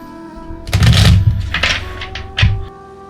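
A tarot deck is shuffled in a few quick, close bursts of riffling card noise with short pauses between them, heard alone.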